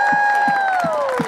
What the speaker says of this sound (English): Come on, guys. Clap your hands.